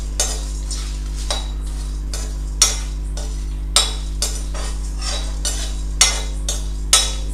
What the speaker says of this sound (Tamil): இப்போ கொஞ்சம் லைட் ப்ரௌன் ஆகிற வரைக்கும் இது எல்லாத்தையும் நம்ம வந்து வதக்கிக்கலாம்